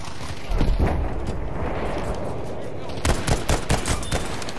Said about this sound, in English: A fucking V1 rocket.